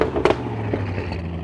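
A blacked-out 740bhp Audi RS7 with APR cast downpipes and a Milltek non-resonated exhaust gives a deep, steady low rumble, with a sharp crackling burst near the start. The sound is close and there is no talking.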